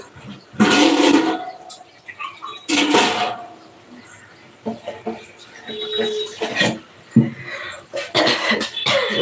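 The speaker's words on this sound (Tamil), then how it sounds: "ஒரே இருமல் வருது தாளிக்கிறப்போ" Several harsh coughing fits burst out close by while spices are tempered in a kitchen, spaced unevenly, with quieter rustling and faint kitchen noises between them.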